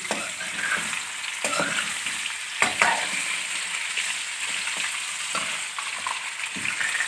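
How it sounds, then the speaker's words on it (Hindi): About a kilogram of chicken fries on high heat in a karahi for charsi karahi, giving a continuous vigorous sizzle. Spatula scrapes and knocks against the pan recur every second or so. "ये तकरीबन हमारे पास 1 kg चिकन है और इसको मैं तेज़ आंच पे फ्राई करूंगी।"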